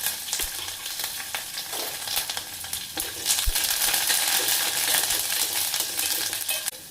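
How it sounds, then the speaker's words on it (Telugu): Chana dal, cumin, garlic and curry leaves sizzle in hot oil over a low flame for tempering, a steady crackling fry with occasional metallic clinks of a stirring spoon, close and continuous. "తాలింపు ఎప్పుడైనా మీరు సిమ్లో పెట్టుకొని వేపుకోండి."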